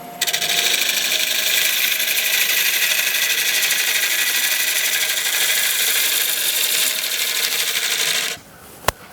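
A wood lathe takes scraping cuts across a quarter sawn white oak platter blank, giving a loud, steady whirring hiss that runs unbroken for about eight seconds before it cuts off abruptly.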